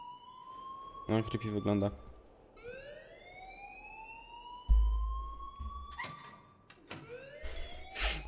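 Alarm wailing in the video game Life is Strange: rising, sweeping electronic siren tones repeat across the clip, loud and close, with people talking over them and some thumps.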